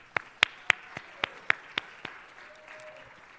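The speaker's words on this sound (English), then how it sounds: "Let's give a round of applause for former Assemblyman and State Senator Rod Wright." Sparse clapping at a city council meeting: about eight distinct, separate claps spaced roughly a quarter second apart, fairly quiet and close, fading out after two seconds.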